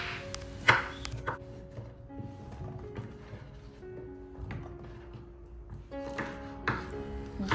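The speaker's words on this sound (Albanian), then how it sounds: "Më pas marrim 2 karrota, të cilat i presim gjithashtu" Two carrots cut with a knife on a board, a few sharp distinct chops spaced apart with quiet gaps and faint background tones.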